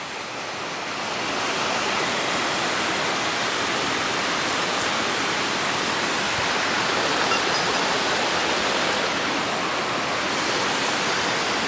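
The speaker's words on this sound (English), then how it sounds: "The breeze is just being created by that waterfall there." A waterfall pours in a steady, loud, broadband rush that swells up in the first second and holds unbroken throughout, with no voices over it.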